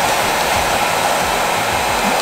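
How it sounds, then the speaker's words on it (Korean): A hair dryer blows steadily and loudly, close up, drying a small dog's fur after a bath, with a constant airy whoosh and no talking. "편하게 털을 말릴 수 있다는 게 굉장히 좋은 것 같아요"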